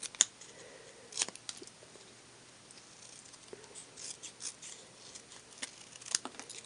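Scissors trim a paper lace card with a postmark, making a series of faint, crisp snips spread unevenly through a quiet room.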